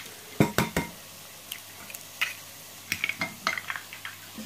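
Four eggs cracked into a bowl for a chicken quiche, sharp taps of shell against the rim followed by soft drips and light clinks, spread out unevenly and close by.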